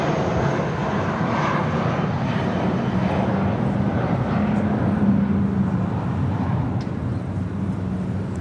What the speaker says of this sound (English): This is JetBlue 806 taking off to Seattle on an A320